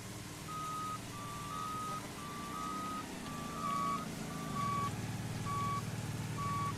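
A truck's reversing alarm sends out a steady run of evenly spaced beeps over a low, rumbling engine that grows louder toward the end.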